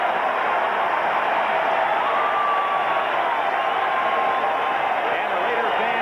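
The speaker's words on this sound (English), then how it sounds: "And the Raider fans cheer the defense with the Oakland ball at the 28-yard line" Oakland Raiders fans roar through a packed stadium during a 1980 game against the Chargers, a dense, loud and continuous wall of crowd cheering with a play-by-play announcer's voice carried over it.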